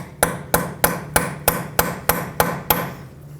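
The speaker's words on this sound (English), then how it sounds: "take a punch that fits in there or any other tool that you might have and give it a few taps" A metal punch on the axle nut of a 2012-2017 Toyota Camry front wheel is struck nine times in an even rhythm, each a sharp, close metallic tap with a brief ring, then quiet.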